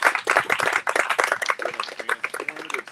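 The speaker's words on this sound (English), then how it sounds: "Let's give him another hand clap for that" Audience hand clapping at a speaker-series event, a dense run of many hands clapping together across the whole stretch, fairly loud and steady with no talk over it.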